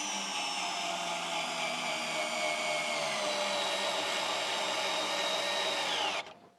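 A Ferrex 12 volt cordless hammer drill drives a construction screw: a steady, loud motor whine held for about six seconds with the pitch sagging gradually under load, then cutting off abruptly, with no talking.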